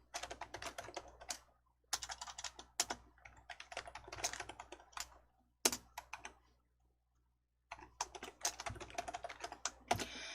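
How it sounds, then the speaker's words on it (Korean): Computer keyboard typing in a Korean word-processing exercise: quick bursts of clicky keystrokes separated by short pauses, with single sharper key hits standing out, close and fairly quiet, with no talking. "엔터 치셔서 줄 하나 추가해 놓으시고"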